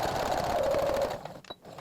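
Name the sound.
sewing machine stitching a fabric face mask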